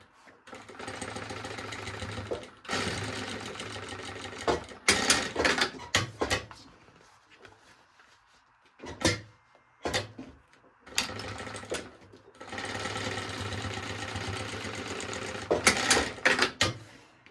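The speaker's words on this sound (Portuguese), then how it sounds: "Aqui eu tô costurando na margem de 1 centímetro" A domestic sewing machine stitches fabric along a 1 cm seam for a baby organizer, running in bursts of rapid mechanical whirring separated by short pauses, close and loud.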